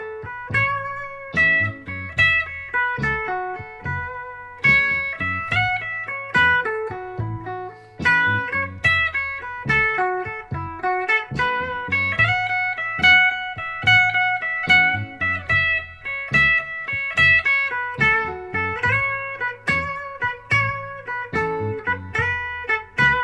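An electric guitar improvises pentatonic lines over two chords, playing a continuous run of clear plucked notes and double stops with a steady rhythm, close and solo, with no voices.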